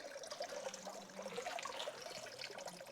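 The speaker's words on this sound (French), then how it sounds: "On est à Bussan, source de la Moselle." Water trickling softly at the spring source of the Moselle river in Bussang, a faint, continuous gurgle and babble with no voices.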